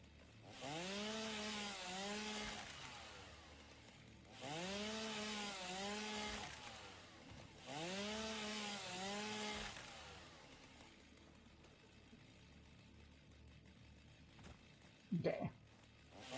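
Chainsaw in the video game Satisfactory cutting through trees in three roughly two-second bursts with a rising-falling whine, then falling quiet, followed by a brief sharp clatter near the end.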